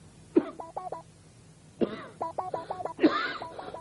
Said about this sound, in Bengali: যতই আটকাই কাশি ততই বাইরে আসে